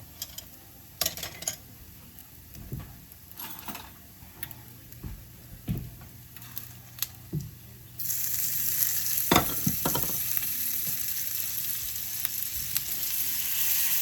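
Salmon patties fry in butter in a pan with soft crackles and scattered ticks, then the sizzle jumps to a loud, steady hiss partway through. No one speaks.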